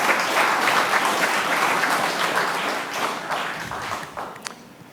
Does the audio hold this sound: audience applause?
yes